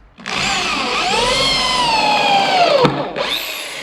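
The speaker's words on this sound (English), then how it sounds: "now I'm going to pre-drill everything, otherwise the cedar will split." A power drill pre-drilling cedar boards whines up to speed and runs steadily for a few seconds, its pitch dropping under load before stopping and briefly spinning again.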